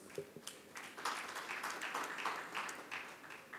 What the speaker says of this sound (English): definitely they deserve a very big applause.